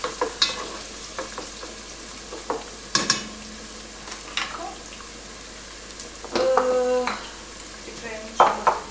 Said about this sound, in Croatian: Popržiti prvo nasjecani luk,